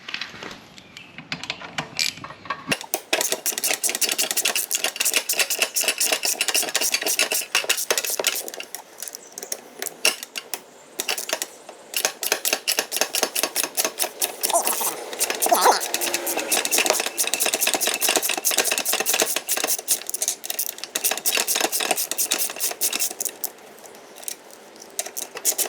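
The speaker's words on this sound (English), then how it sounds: "I'm just gonna unscrew these 2 bolts right here" Metal bolts being unscrewed by hand tool on a 2008-2020 second-generation Suzuki Hayabusa motorcycle during an oil cooler block-off install, heard as close, continuous rapid ratcheting clicks with brief pauses.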